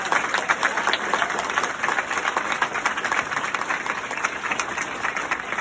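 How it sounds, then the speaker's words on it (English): An audience at a political speech in Arizona applauds steadily, a dense, loud wash of many hands clapping that fills the whole stretch with no voice on top. "if you're clapping now"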